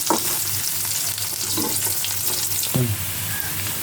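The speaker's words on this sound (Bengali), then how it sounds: "দিয়ে পেঁয়াজটা আবার বাদামি করে ভাজবো।" Onions frying until brown in a pan with cardamom and peppercorns, for a broiler chicken curry: a steady, loud sizzle fills the whole stretch, with occasional stirring scrapes, and no one speaks.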